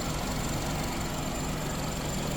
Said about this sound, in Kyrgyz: Мотордун иштеши өтө жакшы, эч кандай лишний звук жок, азыр еще белки кондиционер да иштеп атат.